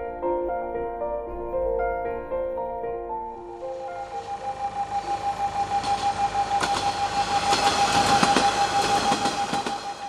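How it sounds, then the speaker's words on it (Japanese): The last train of the night rumbles past on the JR Yonesaka Line, with rhythmic clickety-clack of wheels over rail joints, building louder as it nears, with a tonal whine and hum throughout. "最終列車が通過。"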